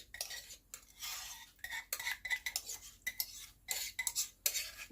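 Melted butter being stirred in a bowl with a spoon, giving repeated close scraping and clinking strokes in an irregular rhythm with brief pauses, alone with no talk.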